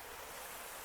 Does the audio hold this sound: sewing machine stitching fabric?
no